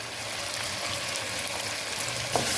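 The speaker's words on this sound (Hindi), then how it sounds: "अभी इस अदरक लहसुन को हम अच्छे से पहले भून रहे हैं" Ginger and garlic paste fries in a pot of hot ghee with coarsely crushed whole spices, giving a steady, close sizzle throughout with one brief louder crackle near the end.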